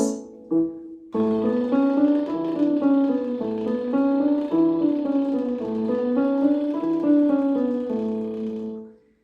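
A voice does a sustained lip trill, buzzing lips sliding up and down in pitch through a wavy scale pattern, loud and close, after a short starting note.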